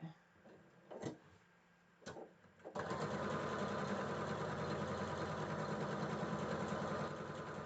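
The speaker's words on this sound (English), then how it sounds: "When I get to the end, I'm putting my needle down, stitching." A sewing machine runs in a steady, fast continuous stitching whir after a few isolated clicks and taps, loud and close, while stitching down to the end of a quilt block with the needle down.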